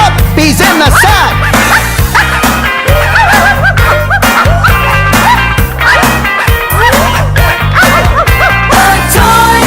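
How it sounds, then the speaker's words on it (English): Puppies bark, yip and whimper from inside Santa's toy sack, loud and near throughout, mixed over a dense backdrop of festive music. "Puppies in the sack, there's puppies in the sack."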